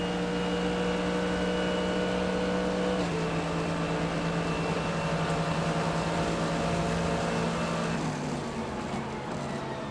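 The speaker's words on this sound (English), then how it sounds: "That's about 165 miles an hour there into that Le Mans chicane in these GT machines" Onboard engine roar of a GT race car at Daytona during the Rolex 24, holding a steady high-pitched note near 165 mph, with a gearshift drop in pitch midway and another near the end, loud and continuous without talk.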